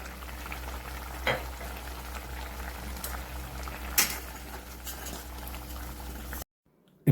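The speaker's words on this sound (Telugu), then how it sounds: "ఇప్పుడు కుక్కర్లో ఉడకబెట్టుకున్న చోలే వాటర్ని మాత్రం పోసుకొని కాసేపు ఉడకనిద్దాం." Chickpea curry (chole) simmers in a pot with a steady soft bubbling and light sizzle, a couple of sharper clinks along the way, then cuts to silence at the end.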